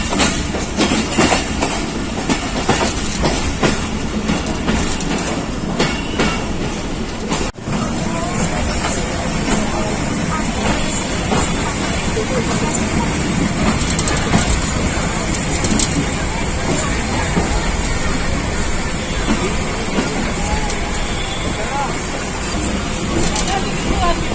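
Pakistan Railways train travelling from Lahore to Sialkot along the border, a continuous loud rumble with rhythmic clickety-clack of wheels on rails heard from inside a carriage, with voices talking over it.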